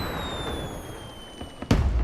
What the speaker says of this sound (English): Blowing up fireworks.